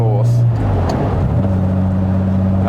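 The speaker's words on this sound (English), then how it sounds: "dabbing the brakes, rev the engine with my edge of my right foot, push the clutch down" An Aston Martin DB4 engine idles then blips sharply during a heel-and-toe downshift, the pitch jumping up and settling lower, heard up close as someone talks over it.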